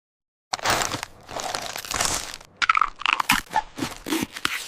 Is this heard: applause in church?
no